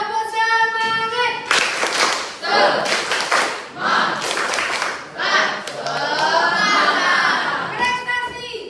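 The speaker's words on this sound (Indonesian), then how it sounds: "Tepuk semangat." Children at a school perform the tepuk semangat clapping chant, loud rhythmic hand claps and thuds interleaved with shouted chanting, with speech at the start and end.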